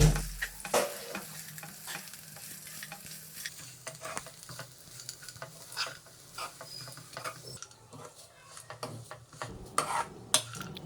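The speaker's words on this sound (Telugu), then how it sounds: "ఇప్పుడు ఈ ఐటమ్స్ అన్నీ బాగా కలిసేలాగా కలుపుకోవాలండి" Flattened rice poha upma is stirred in a frying pan, with repeated scraping and clinking of a spoon over a low sizzle, close and busy throughout, no speech.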